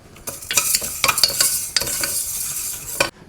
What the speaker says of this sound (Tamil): இந்த பருப்பு ஸோ அது வந்து நல்லா வறுத்துக்க போகிறேன்